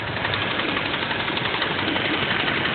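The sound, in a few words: idling car engine knocking, suspected bad hydraulic lifter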